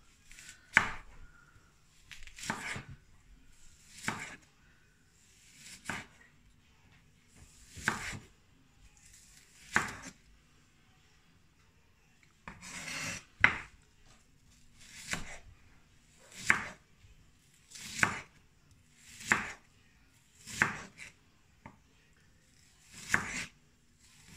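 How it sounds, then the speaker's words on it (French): A knife chops a red onion on a cutting board in a steady series of crisp, close strokes, each a single sharp thud spaced a second or two apart, with brief pauses between runs. "Oignon rouge. Alors, vous le coupez en deux."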